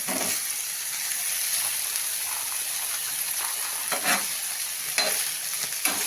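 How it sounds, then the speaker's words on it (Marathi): Green peas being sautéed and stirred in a pan for tawa paneer pulao, giving a steady close sizzle with occasional scraping stir strokes, no talking. "मटार असं चांगलं सगळं परतून घेऊ आपण"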